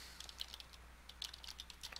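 Quiet keystrokes on a computer keyboard, typing into a web browser's address bar, with soft irregular taps in small bursts close to the microphone.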